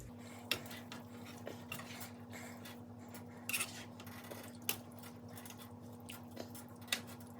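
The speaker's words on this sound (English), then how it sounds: "So we're going to stir this a little bit." A utensil stirs tomato sauce made with canned tomatoes in a pot for ratatouille, giving soft scraping and occasional light metallic clinks over a low steady hum, with no talking.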